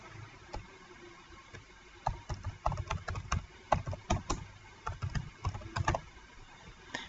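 Computer keyboard typing in bursts of quick clicks, a file name being entered while saving a document in Microsoft Word; close and fairly crisp, with short pauses between runs of keystrokes.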